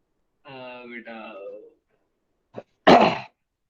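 A person with a lingering cough lets out a short, sharp cough burst near the end, after a stretch of vocalizing and a brief throat noise.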